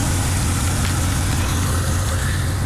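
A 1948 Ford F1 truck engine idles steadily and up close, a continuous low rumble holding an even level throughout with no talk over it.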